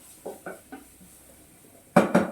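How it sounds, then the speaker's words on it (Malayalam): Beetroot being stirred in a cooking pot, with three light scrapes of a utensil early on followed by two louder, closer clanks and scrapes against the pot at the end. "കുറച്ച് നേരമായിട്ട് ഞാൻ ഇങ്ങനെ ഇളക്കി കൊടുക്കുന്നുണ്ട്"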